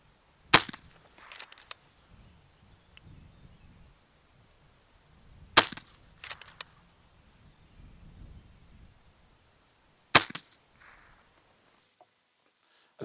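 Three shots from an FX DRS Tactical Sniper .25 calibre air rifle, each a sharp, short crack followed by a faint rattle of the action, spaced several seconds apart against near silence outdoors.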